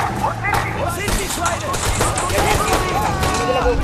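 Video game gunfire from overhead, dense rapid bursts and cracks layered over busy game effects and music, loud and continuous, with voices talking throughout.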